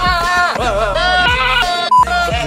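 A goat bleating in a hip-hop song remix, loud wavering bleats set to a beat with a heavy bass pulse, repeated phrases with a brief dropout near the end.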